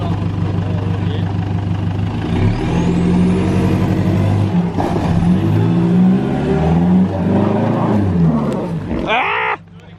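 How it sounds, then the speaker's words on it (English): An off-road 4WD Nissan D22 with 210mm shackles climbing its wheels up onto a wall, the engine droning and straining loudly near by, with shifting tones and a voice talking over it before it suddenly cuts off. "just turn onto the wall, so you can just pop those wheels up onto the wall"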